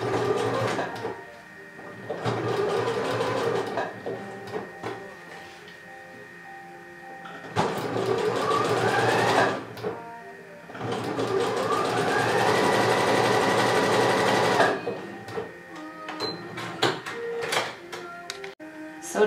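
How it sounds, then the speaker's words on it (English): A sewing machine runs an elastic stitch to attach elastic to swimsuit fabric, loud and close, with several sustained bursts of whirring separated by short pauses and handling clicks. "we place again the elastic and we continue sewing with our elastic stitch."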